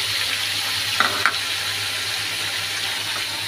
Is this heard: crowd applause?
no